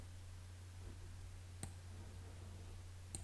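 A computer mouse double-clicks while text in the Canvas Workspace program on a PC is being selected, giving two sharp, faint clicks, one near the middle and one near the end, over a steady low hum.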